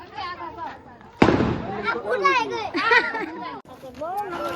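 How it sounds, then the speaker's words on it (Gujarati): A sharp firecracker bang bursts out amid children's chatter at a village Diwali celebration, followed by lively voices and calls continuing over the noise. "મોટા મોટા બોમ્બ ફોડે છે"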